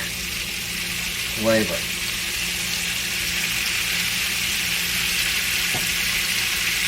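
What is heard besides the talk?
hamburger frying in bacon fat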